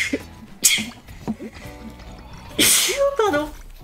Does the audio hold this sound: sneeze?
yes